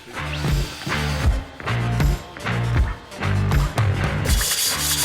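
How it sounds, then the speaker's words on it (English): Abrasive pad rubbing the deck of a Cummins diesel engine block, close rhythmic back-and-forth scrubbing strokes in about five bursts with short gaps between them. "We clean the deck and gasket surfaces with a Scotch pad"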